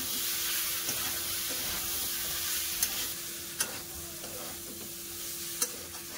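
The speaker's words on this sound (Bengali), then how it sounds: "আলু কপিটাকে মশলার সাথে খুব ভালো করে কষে নেবো।" Potato and cauliflower stir-frying with spices in a pan, a steady close sizzle broken by a few sharp scrapes of a stirring spoon, with no talk.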